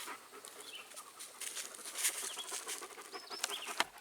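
Several dogs breathing and panting close by outdoors during tree-cutting work, a steady soft rhythmic huffing over a faint background with distant bird chirps and a sharp click near the end, no talking.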